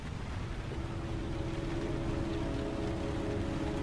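Rain falls in the video game Heavy Rain, a steady, even wash of downpour with a faint low tonal hum underneath and no voices.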